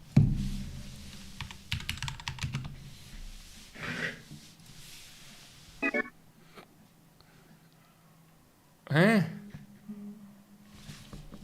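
Clicks and clacks of typing on a computer keyboard come in short irregular bursts, close and fairly quiet, with people talking and breathing around them.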